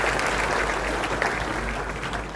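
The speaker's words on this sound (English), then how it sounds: "We need to clap for our key guest" Audience applause for a key guest at a Murang'a investment conference, a dense, steady wash of clapping across the whole stretch with a constant low hum underneath.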